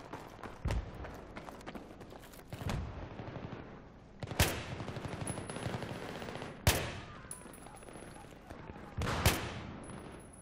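Several loud, sharp single-shot rifle gunshots in Battlefield 3 ring out at irregular intervals over a steady background din, with no talking.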